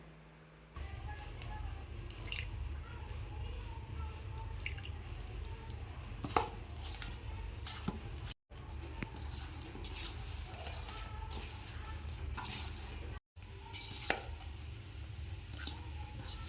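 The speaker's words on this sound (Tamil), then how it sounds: "மாவை சப்பாத்தி மாவு பிசைகிற மாதிரி பிசைஞ்சு எடுத்துக்கணும்" Omapodi dough of gram flour worked by hand like chapati dough, with water sprinkled in bit by bit, giving soft squishing and slapping sounds over a steady low kitchen hum, close and continuous.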